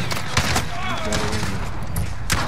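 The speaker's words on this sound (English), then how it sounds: "This pistol I got shoot fast as fuck" A pistol in a shooter game firing in a quick rapid burst of sharp cracks, close and loud, with a voice talking over the shots.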